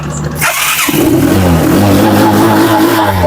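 A motorcycle engine cranks and catches with a self-starter, then revs up loudly and runs with a rising, throaty drone, very close.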